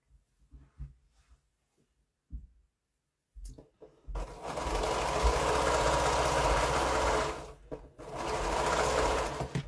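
Sewing machine chain piecing quilt blocks runs in two steady, loud bursts with a short pause between, after a stretch of soft handling and quiet fabric rustles.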